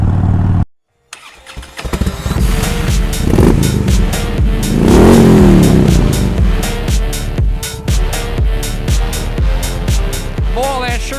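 A Harley-Davidson Sportster Seventy-Two motorcycle engine starts after a brief silence, then idles and revs loudly with rising and falling throttle blips, close to the microphone, with no talk over it.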